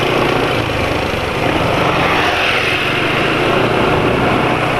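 A motorcycle engine idles with an even, continuous drone and no break or change in pitch, close and fairly loud.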